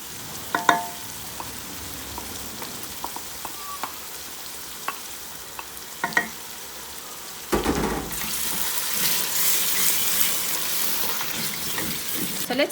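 Irish potatoes frying in a pan with ketchup stirred in; soft scattered clicks and stirring taps give way to a loud, steady sizzle in the second half.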